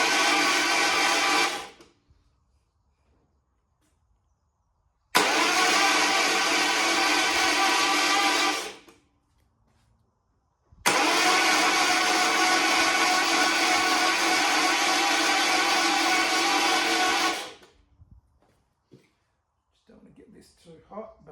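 A rebuilt Holden Grey motor is cranked over for the first time in a long while, three loud whirring starter bursts separated by silence, the last one longest, without the engine catching.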